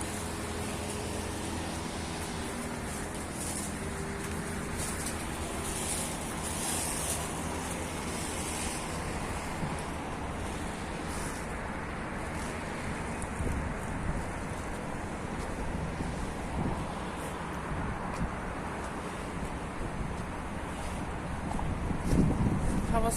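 Wind blowing outdoors at a municipal garden market, a constant rushing buffet against the microphone with faint distant sounds beneath, building slightly toward the end.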